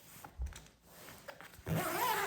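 The zipper on the large rear pocket of a Vera Bradley Ultralight Ultimate Travel Tote is pulled open, a faint rasping run of a fabric bag zipper preceded by soft handling rustle, close and quiet.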